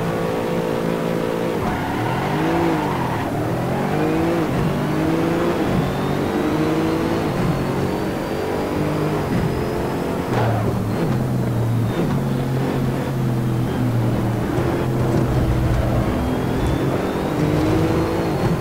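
Race cars roar off the line at the start of a ten-lap race in a racing video game, with dense layered engine tones rising and shifting steadily throughout, loud and continuous with no talking.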